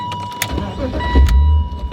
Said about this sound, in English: Let's fire the car up real quick.